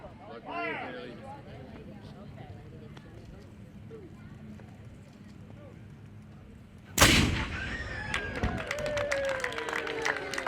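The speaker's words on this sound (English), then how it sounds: "Cannon fire, number 5. Fire number 5." Voices and crowd murmur sit under quiet background at a Fourth of July ceremony, then a single loud cannon blast booms close by and rumbles away amid continued crowd noise.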